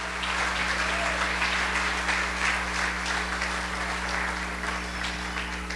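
A church congregation claps and applauds in praise, a dense, sustained wash of many hands heard from within the hall over a steady low hum.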